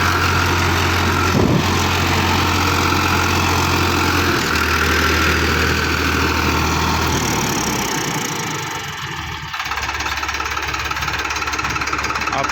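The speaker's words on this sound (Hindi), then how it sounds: "ड्रॉप नहीं कर रहा ट्रैक्टर, पूरा खुल के चला हुआ ट्रैक्टर।" A 55hp tractor engine labors steadily while pulling a 9-foot super seeder through a field, a continuous heavy low drone with a brief dip near the end, running alone without talk.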